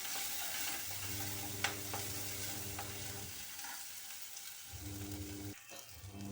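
Masala for a green pigeon pea curry fries in oil with a soft, continuous sizzle and an occasional stir, heard close and fairly quiet with no talking.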